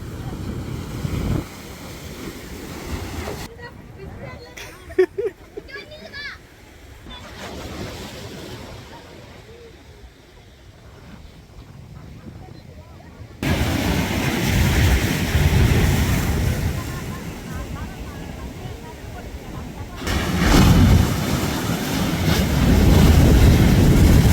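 Sea waves break and surge onto the shore at Poompuhar, with loud rushing surf and heavy wind buffeting the microphone, easing into a quieter stretch before swelling again; people talk now and then.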